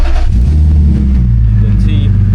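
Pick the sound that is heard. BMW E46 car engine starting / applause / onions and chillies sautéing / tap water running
BMW E46 car engine starting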